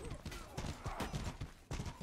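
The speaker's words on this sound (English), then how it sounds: "That guy is a friendly horse." A horse's hooves clip-clop in rapid rhythmic beats in the medieval combat game Mordhau, fairly close, with voices talking over them.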